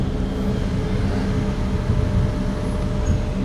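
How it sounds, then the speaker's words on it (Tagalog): Delivery trucks arrive at a cruise ship home port, a loud steady low engine rumble up close with no talk. "Yan pa yung mga truck na dumadating."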